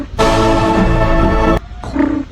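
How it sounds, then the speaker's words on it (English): Loud dinosaur roar in the video game Chicken Gun, a harsh sustained bellow of about a second and a half, followed by a shorter, quieter growl, with no speech. "What sound does a dinosaur make? Roar."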